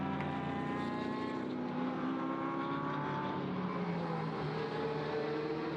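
Lamborghini race cars at Mugello circuit sweep past in a continuous high-revving engine blare, with layered engine tones shifting in pitch as they go by, loud and close throughout.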